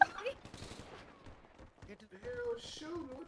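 Gunfire erupts in a GTA 5 roleplay courtroom, with scattered sharp shots spread across the moment, mixed with chaotic background noise and overlapping excited voices.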